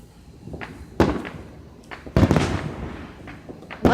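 Fourth of July fireworks burst at a distance, a few sharp cracking booms spaced unevenly over a few seconds, each with a short rumbling tail, and no talking.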